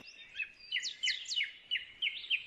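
Several birds chirp and trill outside a country house set in a pine forest, short bright calls coming in quick clusters, fairly near and clear against an otherwise quiet background.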